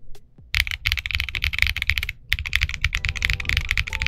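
Fast, continuous typing on a TG67 V3 keyboard with a PC plate and KineticLabs Salmon tactile switches, close and crisp, with dense clacks and one brief pause midway.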